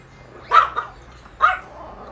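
An English Bulldog or Yorkie barks twice, close and sharp, with a short pause between the barks and quiet around them.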